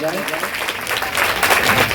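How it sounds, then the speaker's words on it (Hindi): A crowd at a welcome ceremony for chairman Kuldeep Singh Lodhi breaks into a short, dense burst of clapping that swells toward the end, with a voice speaking over it. "जोरदार तालियों से स्वागत किया जाए"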